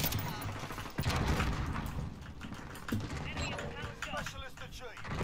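Automatic SCAR rifle fire in Call of Duty Modern Warfare (2019) multiplayer, bursts of shots over dense, loud battle noise with someone talking throughout.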